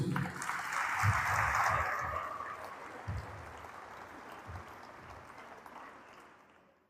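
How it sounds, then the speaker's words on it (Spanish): Applause from a Sunday church service congregation, loudest at the start and then thinning and fading steadily into quiet. "Dale un aplauso a Cristo"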